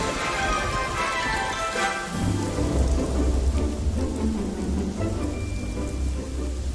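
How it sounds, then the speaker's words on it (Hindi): Steady heavy rain pours at night on a rooftop, with low rumbling thunder rolling underneath, continuous and close with no voices. "अब मैं बारिश में भीग रहा हूँ"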